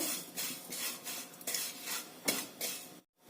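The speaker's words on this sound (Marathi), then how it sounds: "त्यामध्ये शेवया भाजायला घालायचं अगदी मंद गॅसवरती हे छानस भाजून घ्यायचं" Vermicelli roasting in a spoonful of oil in a pan on a low flame, stirred with steady, rhythmic scraping strokes and a soft sizzle, ending in a brief silence.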